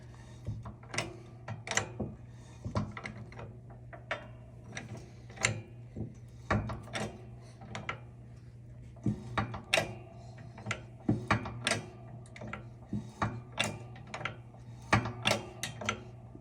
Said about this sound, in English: This was one of the first times using this modified log splitter press, so kind of taking it slow